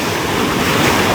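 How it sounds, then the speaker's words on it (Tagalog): Strong ocean surf crashes continuously at a surfing beach, a loud, dense roar of breaking waves mixed with wind buffeting the microphone. "nakikita niyo ba kung gaano kalakas yung alon?"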